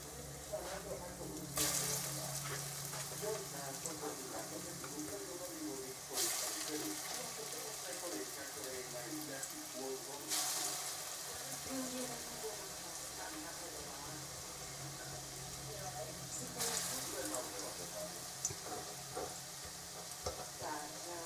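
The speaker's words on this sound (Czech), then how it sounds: "A smažíme po obou dvou stranách." Cheese-filled potato balls fry in preheated oil with a steady, close sizzle throughout, broken by occasional stirring, scraping and louder bursts as pieces are turned.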